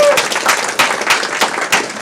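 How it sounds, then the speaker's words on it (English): Steady crowd applause at a Rotary club meeting, dense, continuous clapping at moderate loudness, a few voices mixed in underneath. "let's just give them a round of applause."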